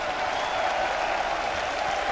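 Dense, even applause from a large audience at the Miss Vietnam 2018 final night pageant rolls on without a break, loud and crowd-wide, cheering the contestants on stage.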